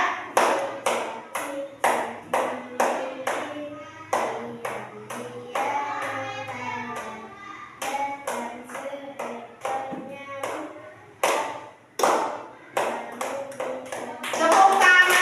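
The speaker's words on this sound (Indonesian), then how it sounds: "Tepuk tangan." Hands clap a rhythmic pattern in a classroom, a steady series of sharp, close claps in groups with brief pauses, loud and clear with no talking over them.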